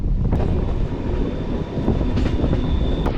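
An elevated MRTS commuter train in Chennai rumbles along steadily with a continuous low roar and faint rattling, wind buffeting the microphone throughout.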